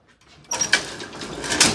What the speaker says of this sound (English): Gate does not want to stay open.